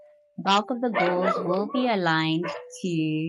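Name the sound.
dog barking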